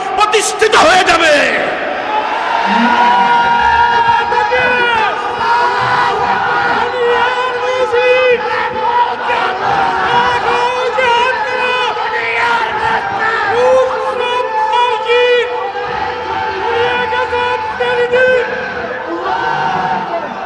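A large crowd chants the takbir slogan 'Allahu Akbar' in unison at a religious gathering, the massed voices loud, sustained and close for the whole stretch.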